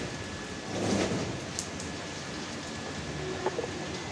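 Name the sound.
rain falling outside, pigeon in the rain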